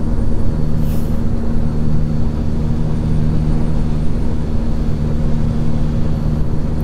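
In the American Truck Simulator game, a Freightliner Classic XL semi truck drives with a steady, low diesel drone and a constant hum. Its engine and road noise run unbroken with no talking.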